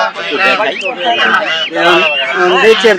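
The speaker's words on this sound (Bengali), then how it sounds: "যে পাশে দেখতে পাচ্ছি রাজহাঁস" Several domestic geese honk loudly and repeatedly up close, a noisy overlapping chorus with poultry market chatter mixed in, at Dhara Bazar, Haluaghat, Bangladesh.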